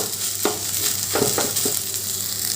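An eggless vegetarian Mughlai paratha filling sizzles steadily in a hot pan while a spatula stirs it, making a few distinct scraping knocks over a constant frying hiss.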